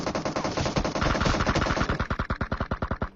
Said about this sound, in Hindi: जब मैं ओपन में जाता हूँ तो देखो आप क्या गंदा फायर करते वो मेरे पे